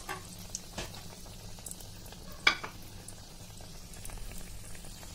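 Cheese cutlets fry in hot oil with a steady, faint sizzle and crackle throughout, broken by one brief louder pop or clatter near the middle; no one speaks.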